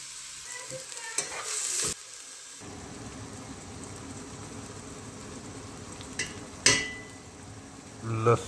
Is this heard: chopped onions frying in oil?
yes